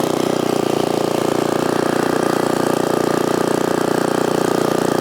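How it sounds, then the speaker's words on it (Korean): A 6.5 hp four-stroke dual-shaft mini cultivator engine runs steadily and loud throughout, with a continuous buzzing drone and no pauses. "자 이렇게 시동을 걸고 저도 똑같이 한번 사용을 해 보겠습니다"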